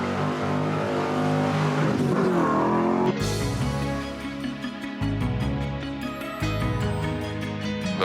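A classic car on a rally stage, its engine droning loud and steady with sharp gear-change steps and rising revs, close and continuous.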